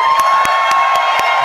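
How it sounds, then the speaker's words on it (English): Live audience at an Indian premiere event for the Citadel series cheering and applauding, a dense continuous crowd roar with whoops and claps, loud and sustained with no talk. "I want to hear louder applause."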